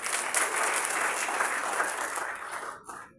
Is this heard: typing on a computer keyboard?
no